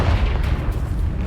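Deep booming blast of the Confringo fire spell in the Hogwarts Legacy video game, a sustained low rumble filling the short moment without any voices.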